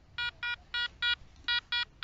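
A metal detector sweeping sand gives six evenly spaced, clean electronic beeps on a target, each short and bright, over a quiet background.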